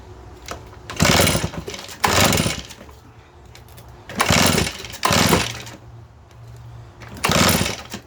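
A Redmax EBZ8500 backpack blower engine runs with its choke open, surging loudly in repeated bursts of about a second each between quieter idling stretches.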